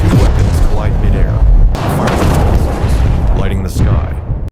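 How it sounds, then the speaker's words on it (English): A missile and a counter-missile collide in mid-air during an FA-37 versus Su-37 fighter dogfight, giving a loud, sustained blast that rumbles on heavily for several seconds. "2 weapons collide mid-air,"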